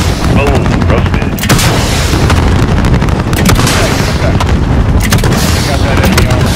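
Missile airstrike in Call of Duty Modern Warfare: loud, dense booming blasts and rolling gunfire crowd the whole stretch, with radio-style voices talking over the barrage.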